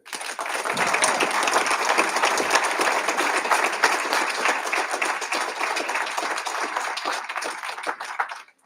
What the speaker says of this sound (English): Can we give Divine another round of applause?